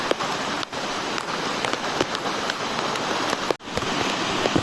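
Heavy rain pours down steadily during a thunderstorm in Palitana, a dense hiss of drops drumming on surfaces, with a few brief dips in the downpour.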